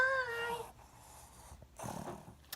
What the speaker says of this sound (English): So that was my dog, and if you hear him in the background